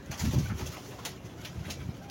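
Pigeons coo softly nearby, low throaty murmurs repeating, with faint rustling in the background.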